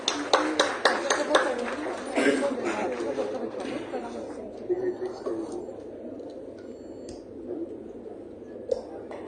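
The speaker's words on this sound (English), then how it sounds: "Let's have a huge round of applause for all of them" A scattered round of applause for dignitaries at a SPICMACAY Bharatanatyam event, sharp near claps at the start fading into murmuring chatter and soft voices.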